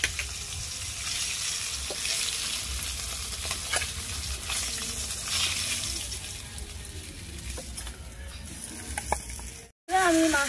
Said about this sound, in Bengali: আমি মাছটা ভাজছি